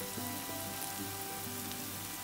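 Chicken and peppers sizzle steadily in a pan for a Turkish-style vegetable chicken sauté, a continuous moderate frying hiss with a faint low hum beneath and no voices.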